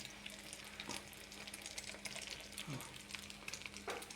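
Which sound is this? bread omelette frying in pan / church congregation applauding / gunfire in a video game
bread omelette frying in pan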